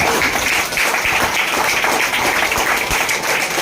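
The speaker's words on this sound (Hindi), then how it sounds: "तो तालियां होनी चाहिए इसके लिए" An audience claps continuously in a large hall, a dense, loud, steady wash of applause lasting throughout, with no pause.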